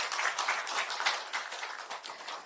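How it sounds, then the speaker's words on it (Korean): A crowd at an election rally for a Democratic Party candidate in South Chungcheong applauds, a lively wash of many hands clapping with uneven surges, fairly close and with no talk over it. "다시 한번 양승조 후보님께 큰 박수 부탁드리겠습니다."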